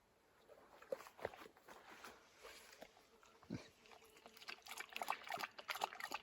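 A dog laps stagnant water from a bird bath outdoors, faint irregular slurps and splashes scattered through the quiet, growing slightly busier toward the end.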